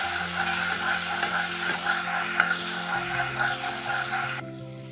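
Pointed gourd sautéing in oil with salt and turmeric, a steady close sizzle with scattered stirring scrapes and soft clicks, a faint low hum beneath, easing off slightly near the end; no one speaks.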